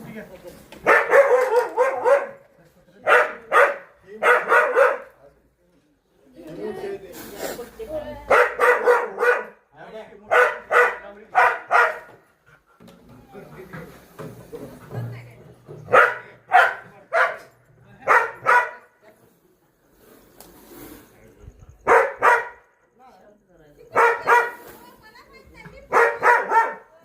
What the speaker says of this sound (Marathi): कुत्र्याला तर नाक दिसलेलं त्यामुळे ओरडायला लागले